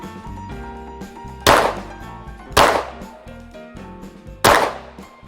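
Three loud, sharp gunshots from a Springfield Armory Echelon 4.0C pistol fired at targets, spaced about a second or two apart, each with a brief ringing decay over a low background hum.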